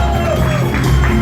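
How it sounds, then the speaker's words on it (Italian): Crowd of party guests cheering and applauding at a restaurant celebration in Nola, a dense, loud wash of voices and shouts filling the whole short moment. "E applausi pure forte forte per Maria Francesca e per questa bella famiglia"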